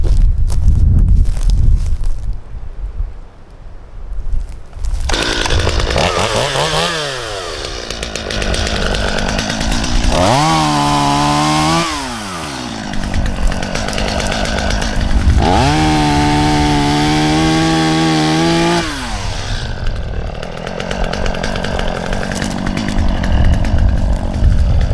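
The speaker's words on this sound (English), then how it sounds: "I got the chainsaw with me. We're gonna knock down this pear tree." A chainsaw cuts down a pear tree, its engine idling, then surging into repeated loud revs as it bites into the wood, with wind noise buffeting the microphone between cuts.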